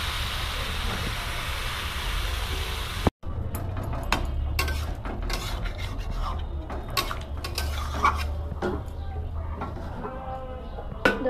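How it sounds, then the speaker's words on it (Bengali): Metal clatters and clanks as water goes into a pan of fried mixed vegetable curry and a lid is set on, the sharp knocks sitting over a continuous low background hum. "এবার আমি অল্প জল দিয়ে ঢাকা চাপা দেবো।"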